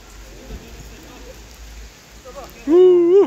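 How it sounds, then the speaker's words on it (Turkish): Heavy rain pours steadily with a broad hiss, and a voice speaks over the downpour near the end. "Müthiş bir yağmur."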